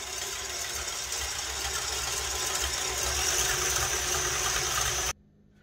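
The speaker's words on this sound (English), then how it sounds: "So we're just gonna let this whisk here for a while." Electric mixer whisking cream into homemade butter, a steady, close whirring motor hum that runs unbroken and then cuts off abruptly near the end.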